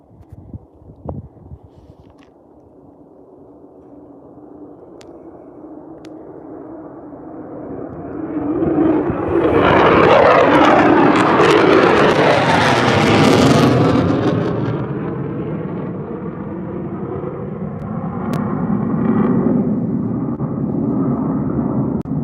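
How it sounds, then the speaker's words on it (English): Two F-35 fighter jets on a low pass at Luke Air Force Base, a distant roar that swells into a loud, broad jet rumble overhead, then slowly fades while staying strong. "it looks like we're going to get another nice low pass from these two jets"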